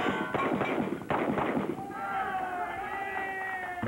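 Gunfire from combat shooting practice for undercover officers, with several sharp shots in quick succession and a voice talking over the noisy scene.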